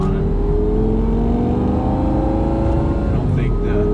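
A Lamborghini Gallardo fitted with a Fabspeed exhaust and deleted catalytic converters, its engine held at a loud, steady, near rumbling drone that climbs slightly in pitch across the clip.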